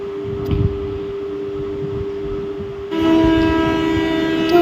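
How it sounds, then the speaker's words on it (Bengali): A train pulls into a station platform with a steady low rumble and a sustained tonal hum that grows louder and brighter partway through, with no talking. "এদিকে ট্রেন ঢুকে পড়েছে"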